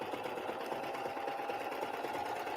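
A Baby Lock Accolade air-threading serger and coverstitch machine stitches white fabric with a fast, steady mechanical whir and rapid rhythmic chatter, close and continuous, with no talking.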